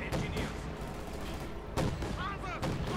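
Gunfire in the real-time strategy game Company of Heroes 2: rapid bursts and booming shots from a battle, loud and continuous, with a commentator talking over the fighting.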